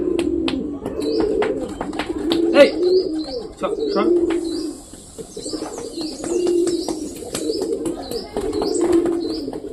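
Pet pigeons coo in soft, repeated low rolling phrases through a home setting, with occasional chirps, wing flutters and a brief spoken word.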